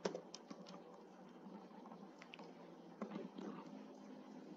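Keys tapped on a computer keyboard while entering a search keyword into a component library, a quiet run of light irregular clicks with no voices.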